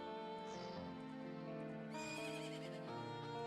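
Epona, the horse from the video game Ocarina of Time, gives a clear, fairly close whinny that rises and then falls over several seconds, with no talk over it.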